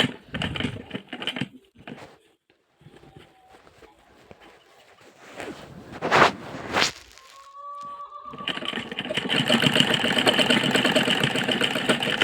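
A sewing machine stitches fabric, sewn with about a quarter-inch gap. Scattered clicks and handling noises come first, then the machine starts a loud, fast, steady rattling whir in the final seconds.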